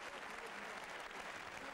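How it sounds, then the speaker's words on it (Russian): Boxing fans on their feet applauding after the final bout, a steady, dense wash of clapping from a large arena crowd heard at a distance, continuous and fairly quiet throughout. "вот какими аплодисментами они оценили мужество"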